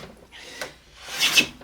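A hand file rasps across a wood block held in a vise as one face is squared for a shoulder jig, two close, scratchy strokes, the second longer and louder, with no voices.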